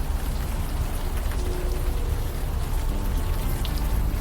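Steady rainfall in the adventure game Unavowed, a dense, even hiss of drops on surfaces that holds constant throughout.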